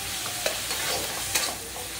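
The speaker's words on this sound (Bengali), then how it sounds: "পেঁয়াজ রসুনটা দিয়ে ভালো করে সেটা কষাতে হবে।" Onion and garlic fry in a pan for a vegetarian doi begun dish, a steady close sizzle broken by a few quick scrapes of stirring, with no voices.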